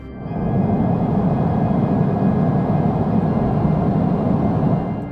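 A steady, broad roar of a Boeing passenger jet's engines drones on, swelling in and fading slightly at the end, with no voices.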